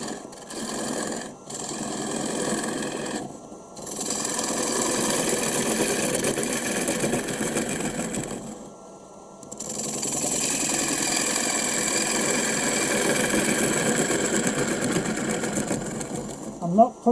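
A cup tool cuts into spinning end grain on a wood lathe with a sustained buzzing, chattering scrape, broken by brief pauses where the tool lifts off, then resuming steadily; a voice talks over parts of it.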